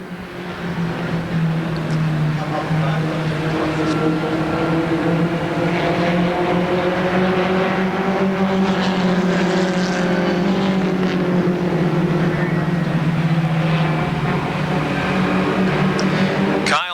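Race cars roaring around a speedway during a 20-lap feature, a loud continuous engine drone that rises and falls in pitch as the cars pass, with faint announcing underneath.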